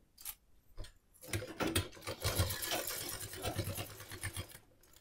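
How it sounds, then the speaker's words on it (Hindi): A sewing machine stitching a deep neck blouse, with a few short clicks and taps first, then a continuous whirring run of stitching at close range. "यहाँ से हम सिलाई लगाना स्टार्ट करेंगे"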